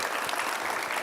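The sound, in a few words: audience applause for panelists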